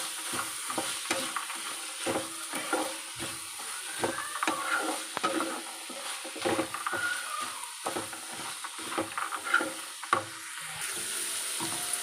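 Sprouted beans fry in a pan for a coastal Karnataka–style palya, giving a constant soft sizzle broken by repeated scraping strokes of a spoon stirring them.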